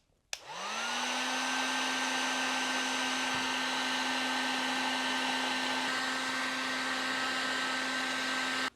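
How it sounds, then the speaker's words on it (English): A heat gun starts up and blows with a steady, loud whine and rush of air for about eight seconds before cutting off. It is warming a part while a 24V Minn Kota Terrova bow motor is installed on a Native Watercraft Hammer 12 kayak. "I'm going to grab our heat gun again, heat this guy up."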